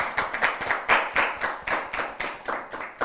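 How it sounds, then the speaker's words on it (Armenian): A group of players at an Armenian quiz game applaud one another with brisk, steady clapping that rises and falls in rhythmic bursts, close and lively, with no talking over it. "Մի հատ ծափահարենք միմյանց։"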